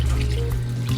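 Tap water runs steadily into a sink while frozen chicken is washed, a continuous close splashing flow with a slight shift in tone partway through.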